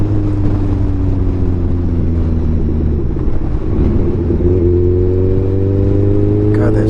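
A 2016 Kawasaki Ninja 1000 motorcycle engine while riding, a loud steady droning rumble whose pitch dips and then climbs again as the revs change, with wind noise around it.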